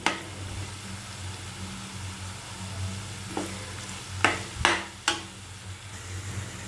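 Potatoes fry in a pan with a soft, steady sizzle, and a few sharp knocks of a spoon or spatula sound near the end as they are stirred.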